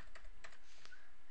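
A handful of quick keystrokes on a computer keyboard, three or four close clicks spaced irregularly over a low steady background hum.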